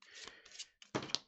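A deck of playing cards shuffled during a tabletop game, giving short papery riffling bursts in two quick bursts, close and fairly quiet, with no talking.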